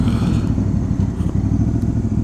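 A 2025 Honda Africa Twin DCT motorcycle rolls along at low speed by a harbor, its engine giving a steady, loud low rumble with faint clatter throughout, no talk over it.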